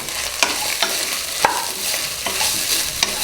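Grated coconut is stirred and sautéed in a pan, with a gentle steady sizzle broken by several sharp scraping strokes of the spoon at irregular intervals.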